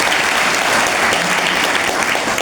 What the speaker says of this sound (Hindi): बहुत ताली बजा दो इनके लिए।